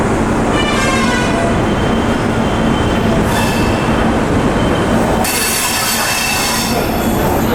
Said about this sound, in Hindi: और क्या खूबसूरत रेलवे स्टेशन है ये गाइस, बहुत अच्छा लगा मुझे इंदौर का ये स्टेशन।